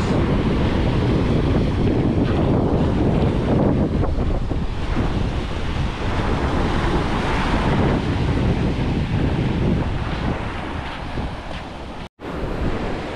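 Sea waves roll and break along the shore at a river-mouth beach, a continuous rushing surf heavily mixed with wind buffeting the microphone, loud and close throughout.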